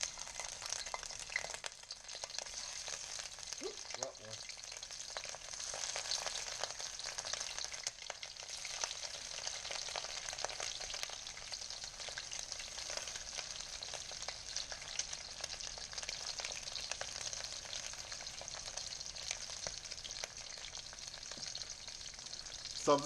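Large shrimp frying in a hot pan give off a continuous, bright crackling sizzle that holds steady throughout, close and fairly quiet, with a few faint clinks of stirring.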